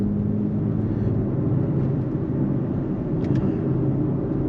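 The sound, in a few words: BMW X3 M Competition SUV driving in sport mode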